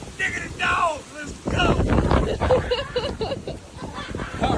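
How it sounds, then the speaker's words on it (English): Strong wind gusts during Hurricane Milton buffet the microphone with loud, rumbling bursts, while a person talks over the gusty roar. "The wind's picking up. We're getting some good gusts right"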